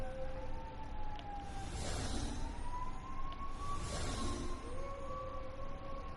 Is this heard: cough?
no